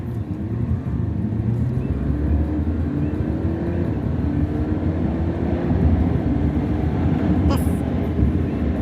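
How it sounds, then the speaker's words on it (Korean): A 2018 BMW X4 20d M Sport diesel accelerating, a steady engine drone with rising tone heard from inside the cabin alongside road and wind noise, fairly loud and continuous. "그러면 가속 한번 해볼게요."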